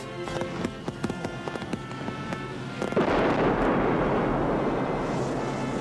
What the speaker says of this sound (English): What kind of a firecracker was that?